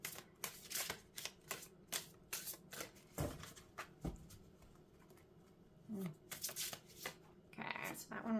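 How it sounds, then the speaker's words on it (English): Tarot cards being shuffled by hand nearby, a run of quick papery riffles and snaps in irregular bursts with short gaps, fairly soft and close. "We'll do one more shuffle."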